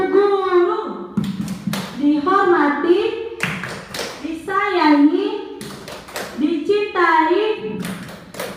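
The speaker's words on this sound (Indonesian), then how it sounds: "sekarang kita tepuk guru dulu" A group chants a teacher clapping chant together in rhythm with sharp claps between phrases, the clapping and voices blending in a steady pattern.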